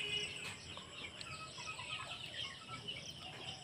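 Chickens and roosters in a poultry shed make a steady low clucking murmur, with scattered higher calls from the flock throughout and no single bird standing out.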